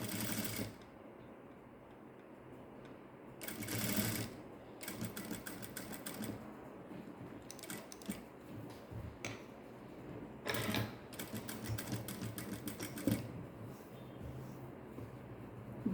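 Sewing machine stitching a blouse in bursts: rapid mechanical rattling runs of a few seconds each, separated by quieter pauses, fairly faint and without talk.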